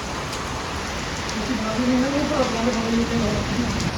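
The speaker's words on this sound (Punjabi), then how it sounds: "ਹੁਣ ਮੀਂਹ ਫੇਰ ਪੈ ਗਿਆ" Rain falls in a steady, close hiss during a wet spell on a farm, while a voice talks over it partway through.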